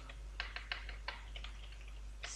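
Several quick keystrokes on a computer keyboard come in a short, uneven burst, close and fairly quiet over a steady low hum, with no talking.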